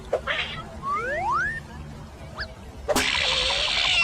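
A cat in the video game Leisure Suit Larry: Reloaded gives a couple of rising, drawn-out meows and a short chirp, followed by a burst of bright game sound effect.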